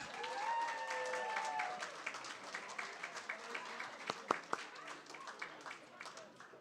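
Audience applause greets the judges at a radio awards ceremony, a soft, steady patter of many hands with a few sharper claps standing out and some faint tones underneath.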